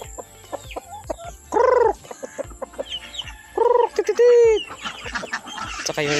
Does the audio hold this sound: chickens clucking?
yes